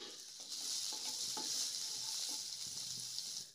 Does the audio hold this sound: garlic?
yes